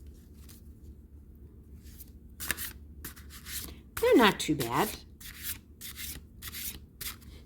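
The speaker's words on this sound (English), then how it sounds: "let's see how these are to shuffle." Large tarot cards are shuffled by hand in bursts of crisp riffling and sliding scrapes, close to the microphone, with a brief spoken remark and quiet gaps between the bursts.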